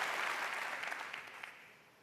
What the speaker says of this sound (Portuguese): exaltar a palavra santa do Senhor Jesus, aplauda mais forte nessa noite e dê glória a Deus nesse lugar.